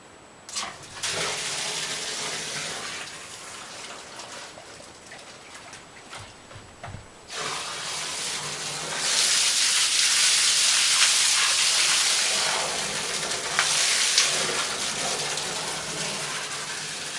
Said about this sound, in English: That's a lot of water, but I might make another one for to increase the pressure.